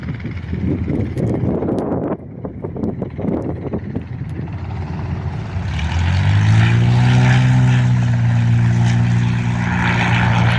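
A Cessna C-182 propeller plane approaches to land on a windy day, its engine drone rising from a distant hum into a loud, steady close roar with strong wind buffeting the microphone.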